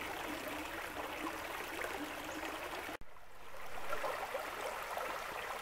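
A small stream flows through a Belgian forest near Oignies, a continuous soft rush and trickle of water with a brief dropout midway, heard alone without voices.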